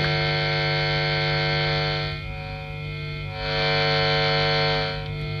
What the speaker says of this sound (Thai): เดี๋ยวผมเปิดโอเวอร์ไดร์ให้ฟัง